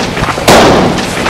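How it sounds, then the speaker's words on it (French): A single loud burst erupts from a fire of burning fetishes, a sudden blast that breaks over a steady crackling roar and then trails off into a sustained hiss. "une explosion s'est fait entendre dans le feu"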